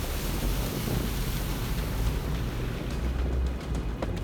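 A vehicle fording the moving water of Eli Creek on Fraser Island, a continuous broadband wash of splashing and rushing water with low rumbling underneath, steady and fairly close throughout.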